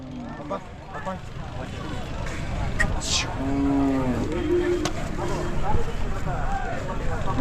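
Hallikar bull and cows lowing, with one clear, sustained low moo near the middle of the clip amid steady outdoor background noise and some voices.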